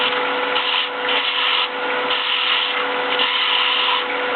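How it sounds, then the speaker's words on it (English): A skew chisel cuts a wooden finial as it spins on a lathe. The scraping and rubbing is steady and continuous, with a constant motor hum running underneath throughout. "I'm using that as a skew tool"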